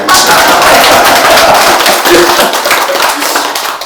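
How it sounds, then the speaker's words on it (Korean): A group clapping hands in a Won Buddhist temple lecture hall, a dense, loud patter of many claps running throughout, with some voices mixed in. "박수까지 치고 그러세요."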